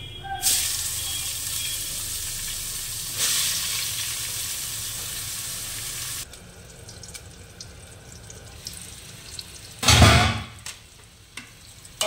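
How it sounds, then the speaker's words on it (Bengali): Pointed gourd (potol) slices frying in hot oil, a loud steady sizzle that drops off partway through, followed by a quieter hiss and a brief burst of running water near the end. "পটলটা ভেজে নেব।"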